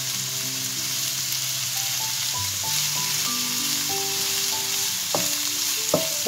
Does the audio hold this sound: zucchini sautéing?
yes